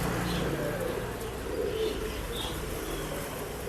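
A male pigeon in a pet shop gives soft, low cooing in repeated throaty murmurs over a constant background hum of the shop.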